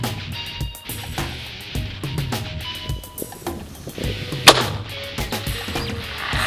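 A long-range precision rifle fires, heard as one loud sharp report standing out from a rumbling outdoor background, with other faint distant cracks around it.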